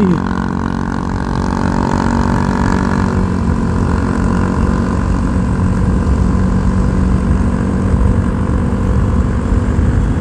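A Kawasaki Ninja motorcycle engine drones steadily while riding, a loud continuous hum mixed with rushing wind and road noise throughout.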